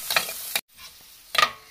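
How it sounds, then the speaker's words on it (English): Carrots and bell pepper sizzle and hiss in a hot pan in short bursts, as if being stirred, close by with a quiet gap in between. "Then I need to fry it again for 1 to 2 minutes."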